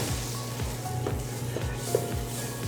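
Butter and powdered sugar icing for a sheet cake heating in a pan toward a slight boil, a steady soft sizzle and bubbling hiss with a faint low rhythmic hum beneath, close and even.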